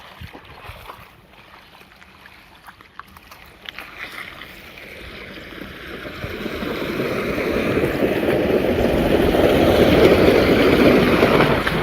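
Floodwater keeps running after days of rain, a broad rushing wash that starts subdued and swells steadily louder and closer toward the end.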